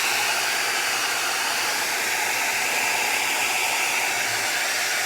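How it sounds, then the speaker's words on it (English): InStyler 7X smart hair dryer blowing air, a loud, close, steady airy roar that holds unchanged throughout without talking. "It's actually a lot more quiet than most blow dryers."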